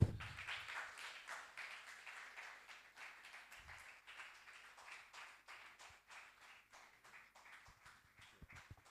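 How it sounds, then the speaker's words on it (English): An audience at a press freedom day business event applauds in a steady, scattered clapping that starts stronger and gradually thins and quiets, heard from a distance in a large room. "Keep the applause up."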